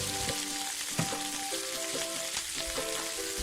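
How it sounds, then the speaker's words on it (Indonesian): Chicken pieces frying in hot oil, a steady close crackling sizzle with occasional louder pops and faint stirring throughout. "Dan kita akan goreng sampai dia matang kurang lebih selama 6 menit."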